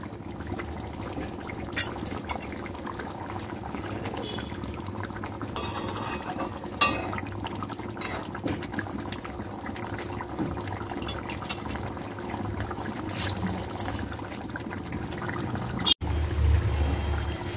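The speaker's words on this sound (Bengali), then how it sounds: "যে যখন ঘি দেবেন অল্প একটু ঘি দিয়ে দিলাম" Ghee pours into a cooking pan during preparation of katla fish kalia, a steady close trickle and hiss running for about sixteen seconds, ending in a sharp knock.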